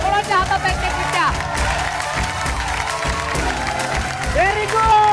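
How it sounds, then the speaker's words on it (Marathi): A studio audience on a women's game show claps and cheers in a lively burst, the clapping mixed with crowd chatter, excited voices and music. "जोरदार टाळ्या"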